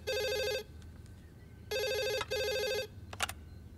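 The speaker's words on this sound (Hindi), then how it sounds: "हाँ कुमार, काफी बार फोन किया तुमने, कुछ अर्जेंट है क्या?" A telephone rings in three electronic bursts, each ending abruptly, with short gaps between them, followed by a brief clatter, close and clear in a quiet room.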